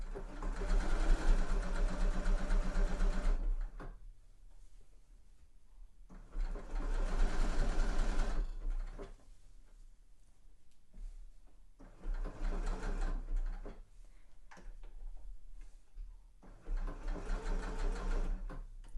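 A sewing machine stitches a seam allowance to a pocket facing on a sweatshirt in four separate runs of steady, fast whirring, with quiet pauses between them while the fabric is adjusted.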